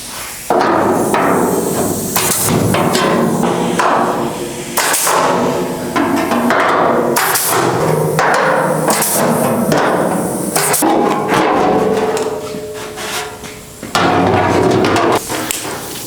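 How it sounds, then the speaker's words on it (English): Repeated sharp metallic hits from a hole punch striking a 1969 Mustang's metal panel, loud and close, in a steady series of blows with brief pauses. "I'm also going to be using this hole punch."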